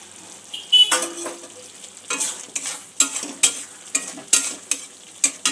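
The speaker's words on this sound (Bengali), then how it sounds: "কয়েকটা কাঁচা লঙ্কা চিড়ে দিয়ে দেবো।" Slit green chillies fry in a sizzling masala for a North Indian creamy paneer dish, with a soft crackle underneath and repeated scraping stirs of a spatula against the pan every half second or so.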